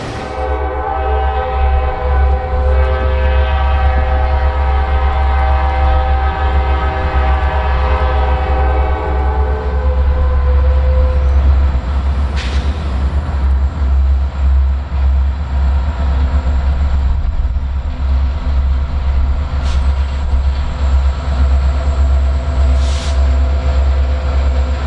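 Norfolk Southern freight train rolling past with GP60 locomotives, a loud heavy rumble and grinding of wheels on rails, horn tones sounding early, then steady clattering cars continuing throughout.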